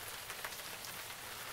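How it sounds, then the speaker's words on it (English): Heavy rain falling on a surface makes a dense, constant patter, a faint and even wash of droplets with no voices over it. "Heavy rain can absorb certain high-frequency radio waves"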